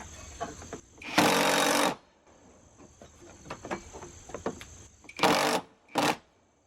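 A power drill drives 2.5-inch Torx head screws with washers to mount a Tenkoo 300W solar light outdoors, in a few short, loud whirring bursts separated by quieter handling noises and a steady outdoor insect hum.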